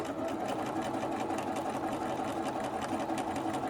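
Sewing machine back stitching over a seam on a fabric mask, a fast, steady mechanical whir and rapid needle chatter running continuously at close range, with no voices.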